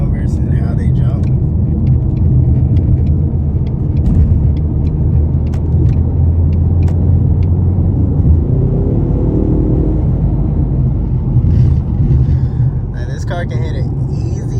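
A 2020 Ford Mustang EcoBoost Premium drives on a busy road, its turbocharged engine building around 20 psi of boost. A continuous low engine rumble sits under someone talking steadily, with a few brief higher mechanical sounds.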